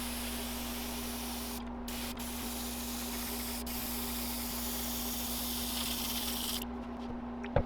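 A steady, close spray hiss of spray paint on a fishing lure runs almost unbroken, pausing briefly twice, over a low constant hum.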